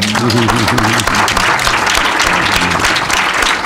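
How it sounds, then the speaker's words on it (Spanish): Farewell applause from an audience at a film-award tribute, loud sustained clapping with a few voices mixed in beneath the hands. "un aplauso de despedida para Diego."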